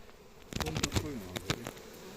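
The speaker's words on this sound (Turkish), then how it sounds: "Her yerden arılar çıkıyor" Honeybees buzz around a crowded hive with pollen-laden foragers, a close, wavering drone of several bees passing near over a softer background hum, with no talk.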